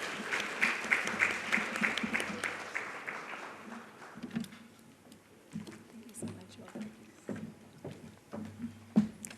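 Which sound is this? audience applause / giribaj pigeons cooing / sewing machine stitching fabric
audience applause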